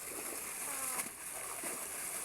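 Water splashes and sloshes as someone dips into cold water, with a few soft splashes over a steady background hiss, fairly faint and without clear speech.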